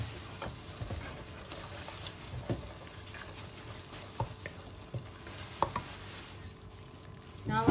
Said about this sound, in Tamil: புதினா இலையும் போட்டு நல்லா இத 2 நிமிஷம் வதக்கிக்கலாம்